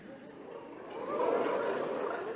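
A person imitates a humpback whale's hello call using a hand over the mouth, a single low, breathy, rising-and-swelling moan lasting a couple of seconds.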